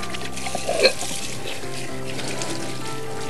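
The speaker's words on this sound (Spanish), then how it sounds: "retiramos la harina, nos lavamos las manitas" Running tap water pours in a kitchen as flour is washed off hands, a steady soft trickle under a faint background hum with a brief splash near the start.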